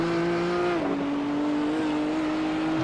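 A race car at the Nürburgring 24-hour endurance race, heard as a loud, sustained engine drone with a steady pitch that dips slightly, continuous and close without any speech.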